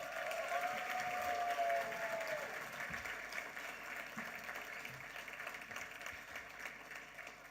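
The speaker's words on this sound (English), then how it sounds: "he deserves another round of applause for that" Audience applause at the Kiwi Indian Hall of Fame Awards 2022 ceremony, a steady dense wash of clapping from a large crowd filling the hall, with a brief tonal sound early on.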